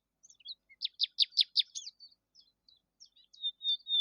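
A small grey bird perched on a bough chirps in a quick run of bright, close notes, then a few scattered softer tweets and a longer trill, with no other sound around.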